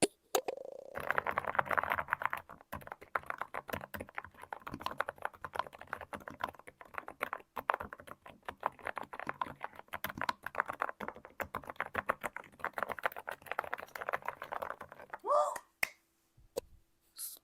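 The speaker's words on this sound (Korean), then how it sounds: "나 이런 뽀글뽀글 소리 나는 키보드 진짜 써보고 싶었는데" Rapid, steady keyboard typing with soft, poppy, bubbly key clicks, close and continuous, ending in a few scattered clicks.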